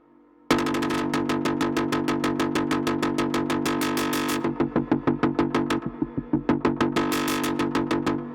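Serum synthesizer patch fed through a glue compressor with soft clipping, a loud rapid pulsing sequence of bright, buzzy repeated notes that thins into choppier stabs midway before picking back up, with no speech.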